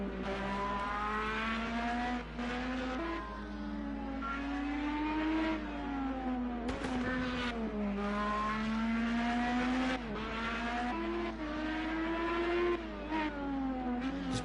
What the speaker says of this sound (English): Adam Liu, he is on his final lap of the session, I believe now, as he makes his way down into the right-hander.